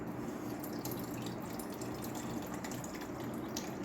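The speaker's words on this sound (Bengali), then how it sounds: "দেখো সাবুটার মধ্যে জল আছে এই পুরো ফেলেই দেবো" Water draining off soaked sago (tapioca pearls) into a sink, a steady continuous splashing trickle at moderate level with no talking.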